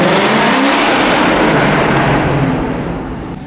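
Ford Mustang accelerating hard through a tunnel, a loud, roaring full-throttle pull with reverberant engine noise that swells and holds, then begins to fade away near the end.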